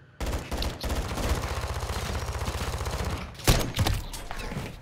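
Rapid automatic gunfire from a shooter video game rattles in a steady stream, then breaks into a couple of louder separate shots near the end.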